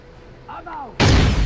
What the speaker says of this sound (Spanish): que ha tirado granada